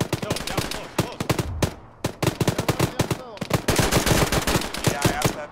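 Gunfire crackles in the military game Arma 3, dense bursts of close automatic rifle and machine-gun shots in rapid, uneven volleys with brief pauses and a faint voice in between.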